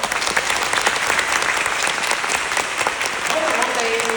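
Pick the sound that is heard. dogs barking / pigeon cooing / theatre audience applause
theatre audience applause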